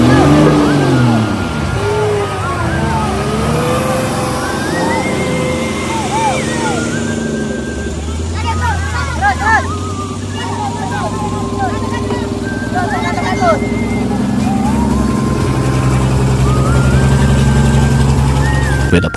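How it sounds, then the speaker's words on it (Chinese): A heavy truck reverses on a road while towing a stuck vehicle, its engine loud and rumbling throughout with rising and falling whines, and people talk over it. "卡车继续倒车准备第二次尝试"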